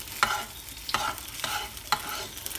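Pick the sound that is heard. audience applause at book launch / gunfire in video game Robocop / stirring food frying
stirring food frying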